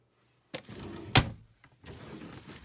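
A drawer in a craft room rolls and slams shut with one sharp bang, followed by rattling sliding sounds as another drawer moves, then a short pause and more scraping.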